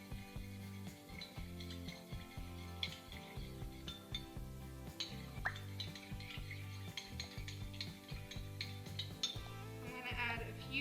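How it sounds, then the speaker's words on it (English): Utensil scraping and clinking against a bowl while stirring a colored bath bomb mixture, a steady run of small taps and scrapes heard up close over faint background music. "Now I'm just going to stir it up and see what color it is"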